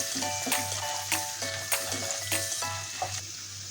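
Garlic frying in oil in a pan while a Maharashtrian val bean vegetable is cooked: steady close sizzling, with rhythmic scraping stir strokes roughly every half second.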